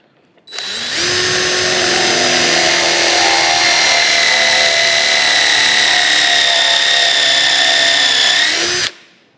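A power drill bores steadily into a drum pattern at a pattern shop for a Deere "Amazon" mill, one loud continuous whine running about eight seconds at a constant pitch before cutting off abruptly.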